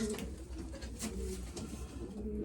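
A pigeon coos softly while being held for leg banding; low, rolling coo notes repeat over a steady background hum, close but faint.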